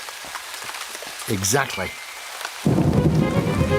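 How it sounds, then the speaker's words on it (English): Cartoon rain sound effect, a steady broadband hiss of falling rain that swells louder in the second half, with animated character voices speaking over the start. "It's raining already."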